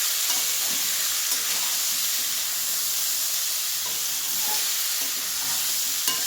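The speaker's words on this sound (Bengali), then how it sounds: "এবার একটু ভালোভাবে নেড়ে দেব নেড়ে আরও দু মিনিট মতো একটু কষিয়ে নেবো" Pumpkin and potato curry seasoned with salt and turmeric frying in a pan, a steady close sizzle with occasional stirring scrapes running evenly throughout, no voices.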